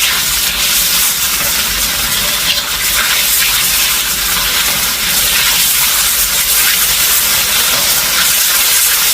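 Fermented soybean paste is stir-fried in a hot pan for rad na with crispy noodles, giving a loud, continuous hissing sizzle that stays steady and close, with no talking.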